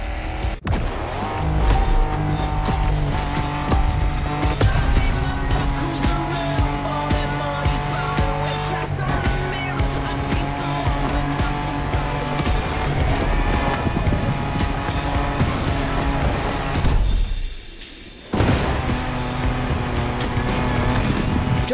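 A car engine in The Crew Motorfest drones and revs while driving off-road, steady and loud with shifting pitch and rumbling terrain noise, dropping out briefly near the end; no voices.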